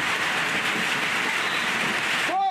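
Heavy rain pours in a dense, steady hiss, with a low rumble underneath throughout.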